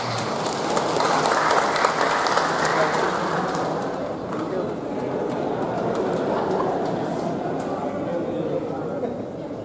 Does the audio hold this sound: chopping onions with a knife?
no